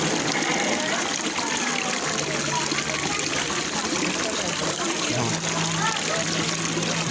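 Hot spring water at the San Benon hot and cold spring resort flows and trickles in a steady, loud, continuous wash, with a faint low hum underneath and no clear talk.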